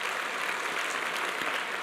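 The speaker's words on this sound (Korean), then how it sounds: "박수로 영광을 돌리죠." A church congregation applauds, a dense, even wash of clapping that stays steady and moderately loud from start to finish.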